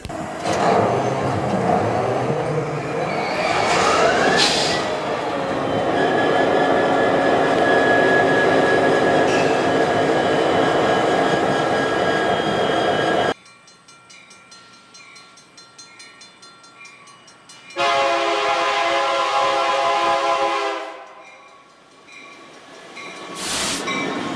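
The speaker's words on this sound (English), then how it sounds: "I'm going to showcase a clip of it starting up and its horn" A BNSF SD75M diesel locomotive rumbles loudly as it starts up, its engine noise building, followed after a brief quieter stretch by long, blaring blasts of its multi-tone horn.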